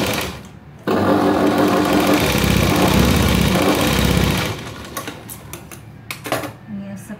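A sewing machine stitches the edge of a princess-cut blouse, a loud steady mechanical whirr for several seconds that then stops, followed by light clicks and fabric handling nearby.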